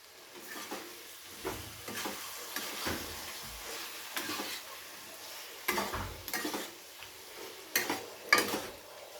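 Spicy chicken garlic roast is stirred and tossed in a pan with a little thick gravy, giving intermittent scraping and clattering strokes over a faint sizzle, close, with no talking.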